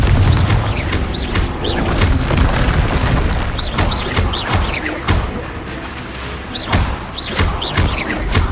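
Confringo blasting spells explode again and again in Hogwarts Legacy, a dense run of loud, close booms and crashing bursts that come in quick succession with barely a pause.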